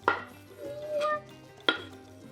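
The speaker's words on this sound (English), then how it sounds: "So I'm gonna start with the stems and just chop it up super, super finely into the bowl" Cilantro stems chopped finely with a knife for pico de gallo, giving three separate sharp knocks spread over a couple of seconds, close up and fairly loud against a quiet background.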